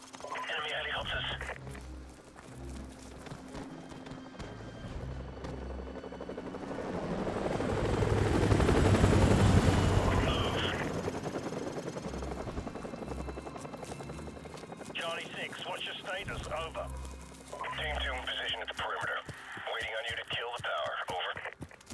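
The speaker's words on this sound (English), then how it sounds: "Enemy helicopters." A helicopter's rotor chop swells up and fades amid Call of Duty 4: Modern Warfare game sounds, with bursts of radio-like chatter and distant gunfire before and after.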